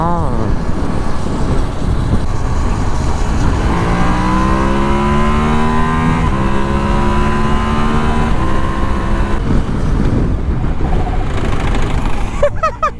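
A motorcycle engine revs up through several gears, rising and falling in pitch, loud and close throughout.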